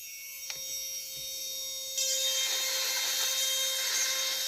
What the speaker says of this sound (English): I'm going to cut into the model, cut across the 7s